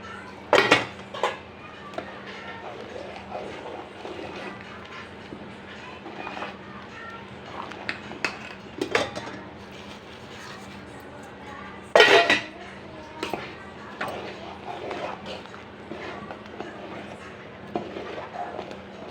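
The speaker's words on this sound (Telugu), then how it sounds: "వేసుకొని మంచిగా కలుపుకొని ఉడకనియాలి" Oats are stirred in a cooking pan with a spoon, giving scattered metallic scrapes and clinks, a few sharp knocks standing out against a quiet background.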